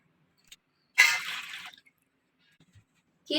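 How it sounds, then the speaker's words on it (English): Water poured into a steamer pot while steamed fish is being prepared, a brief close splashing pour of under a second, then quiet with a faint later drip-like sound. "Take the steamer and pour some water into it."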